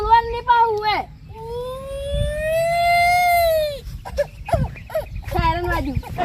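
A voice imitates a wailing police siren in a Gujarati comedy sketch: a long rising-and-falling whoop held for a few seconds, framed by excited shouting and talk.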